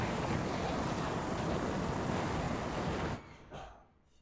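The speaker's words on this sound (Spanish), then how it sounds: "se baja el agua" Water draining from a reservoir in the Resident Evil 1 video game, a loud steady rushing wash that cuts off abruptly near the end, leaving a few faint fading swells.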